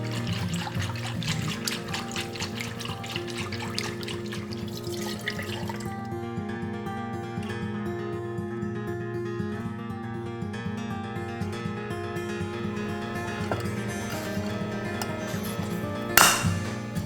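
Homemade yogurt being stirred in a bowl, with soft wet swirling, light clinks of a utensil against the container and a sharper knock near the end, close and quiet, with no talking.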